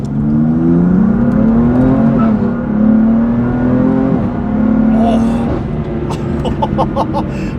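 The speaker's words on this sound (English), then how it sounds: "hear some really good induction noises as we go for the first ride" A BMW F8X car with carbon fiber intakes roars with loud, close induction noise as it accelerates through rising and falling revs, then sharp pops and crackles follow when the throttle is released.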